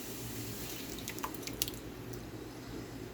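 Water poured into a tomato sauce jar to rinse it out in a home kitchen, faint trickling and dripping with a few small splashes over a low background hum.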